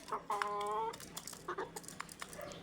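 Backyard chickens, about four months old and kept at a boarding house, cluck and murmur softly while they eat, with a few short calls rising over quiet, scattered pecking sounds.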